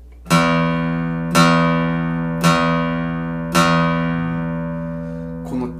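Four ringing bass notes struck one after another on an all-laminate 1971 Yamaha FG-180 acoustic guitar, each decaying slowly, close and clear with a faint touch at the end.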